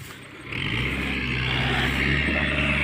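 A tractor working in sticky, waterlogged mud swells from a lower idle into a louder, sustained rev, the engine straining close by in a steady roar with no voices.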